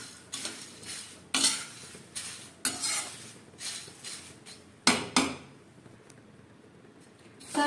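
A spoon stirs namkeen with black salt and cumin powder in a bowl, giving a run of irregular clinks and scrapes, some sharper than others, close and fairly quiet.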